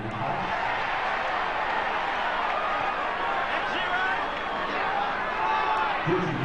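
A rugby league stadium crowd of nearly seventeen thousand during a Parramatta Eels versus Manly match forms a dense, constant roar of murmur and noise, with commentators talking over it.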